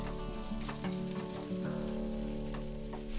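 Finely chopped beans and vegetables for momo filling are stirred in a pan over a steady sizzle, with soft scraping strokes and a constant low hum beneath.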